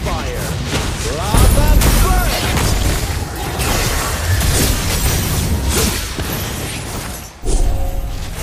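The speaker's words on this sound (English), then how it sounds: "Our turret has been destroyed." A turret is destroyed in the Mobile Legends battle arena game, with booming crashes and shattering impacts layered over busy game effects, a burst of loud explosions near the end, and announcer-style speech mixed in.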